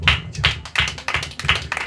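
Church congregation clapping hands in praise during a sermon, a series of loud sharp clap bursts in an uneven rhythm, close and nearly free of talk.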